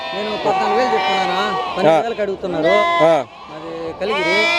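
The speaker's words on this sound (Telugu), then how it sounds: "పొట్టేలు పిల్లలు వస్తున్నాయి చూడండి చాలా బాగున్నాయండి పొట్టేలు పిల్లలు" Young rams bleat repeatedly at the Gudur sheep market, several loud, wavering calls overlapping close by, with a busy crowd murmur and people talking underneath.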